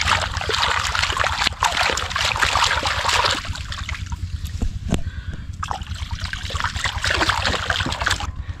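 Tools being washed with water collected in a ditch at a farmhouse building site, a steady close trickle and splashing that runs throughout without a pause.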